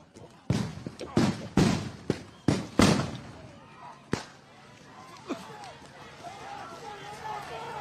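Flashbang blasts go off in a rapid burst of about six sharp, loud explosions at a North Minneapolis protest scene, then one more bang, followed by quieter crowd noise and voices.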